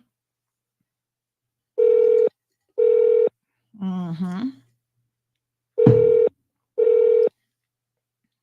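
A telephone call being placed: short steady dial tones and ringback bursts separated by pauses, with a brief spoken murmur in the middle, clear and close.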